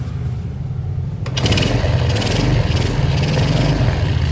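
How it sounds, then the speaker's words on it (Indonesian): A Yamaha Jupiter Z motorcycle with a rough-sounding engine catches after a brief quiet moment and settles into a close, steady idle with a rapid buzzing rattle. "Motor dia langsung hidup."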